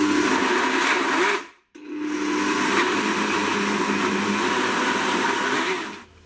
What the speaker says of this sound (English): Now just blend this. You can just pulse it or whatever works for your machine the best.